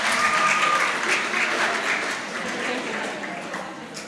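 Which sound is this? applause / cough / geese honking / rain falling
applause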